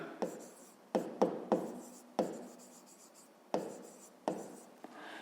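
Handwriting during a fifth-grade maths exercise: a series of sharp pen taps and short scratching strokes, close and quiet, spaced irregularly across several seconds.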